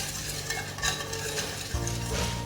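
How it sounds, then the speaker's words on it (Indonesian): Jelly mixture with sugar and water being stirred in a pot, a steady close scraping and swishing with faint clinks, continuous throughout with no talk. "Diaduk sampai rata."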